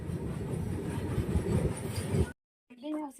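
A moving train rumbles and rattles loudly with dense low clatter for about two seconds, then cuts off abruptly; after a short gap a voice is heard briefly.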